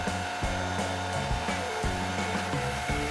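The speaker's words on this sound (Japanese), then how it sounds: "今回のドライヤーは暖かい風にしました" A hair dryer on its warm setting blows steadily onto resin to shape waves in a resin art piece, a close, continuous whirring hum with small shifts in pitch and nothing else over it.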